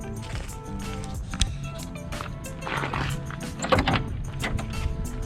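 Light clunks, scrapes and rattles come from a door panel being shifted around inside a C3 Corvette project car. The handling sounds are close and low in level, with a couple of sharper knocks.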